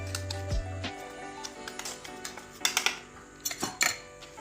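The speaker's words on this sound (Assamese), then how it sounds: "মই এইটো ভালদৰে চালি লওঁ।" Ground rice flour for bhoka pitha is sieved, giving light irregular tapping and scraping clicks against a metal sieve and vessel, close and faint over a quiet background.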